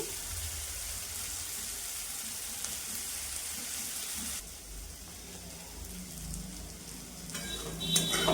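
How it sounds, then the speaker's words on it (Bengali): Boiled chickpeas frying in oil in a pan while being stirred, a continuous close sizzle with the rattle of stirring building toward the end, no voices. "নাড়া কাড়া করে ভেজে নিব এভাবে দু তিন মিনিট ভেজে নিই"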